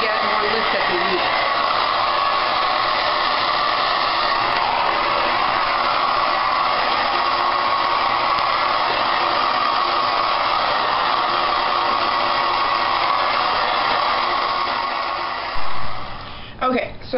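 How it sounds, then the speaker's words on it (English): A hair dryer blows continuously while a round brush is turned through short hair, a steady loud whooshing airflow that cuts off near the end. "Notice how I turn my brush as I'm blow drying."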